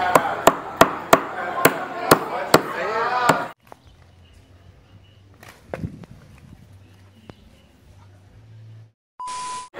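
Sharp hammer blows on crab shells at a traditional crab bar in Duque de Caxias, about eight loud evenly spaced strikes in a quick rhythm, followed by quieter handling noises, faint background murmur and a brief electronic tone at the end.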